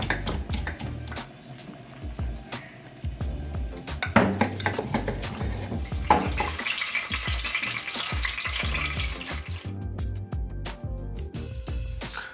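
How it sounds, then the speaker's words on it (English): Garlic pounded with a pestle in a mortar before cooking yellow rice, a run of sharp, uneven knocks and clatters up close, with some metallic rattling and pot noise. "Gotta pound that garlic so we can start off our yellow rice."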